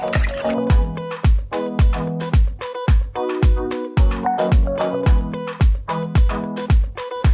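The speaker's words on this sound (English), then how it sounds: "I'm just going to give them a good whisk" Quick rhythmic strokes of a whisk beating eggs against a ringing bowl, about two per second, close and loud, continuing steadily with no voices.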